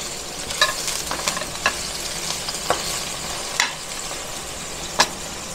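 Boiled beef sautéing in a pan, a steady close sizzle with intermittent sharp clicks and scrapes as it is stirred, no voices.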